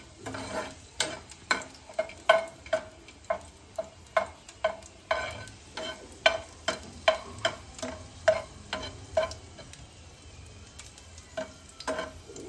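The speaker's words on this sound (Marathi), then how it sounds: "जी भाजी आपण आंबाड्याची धुवून घेतलेली आहे ती सुद्धा परतायची आहे यामध्ये" Garlic and ambadi leaves being sautéed in a pan, with a quiet sizzle under a run of rhythmic stirring scrapes, about one or two a second, that pause briefly near the end.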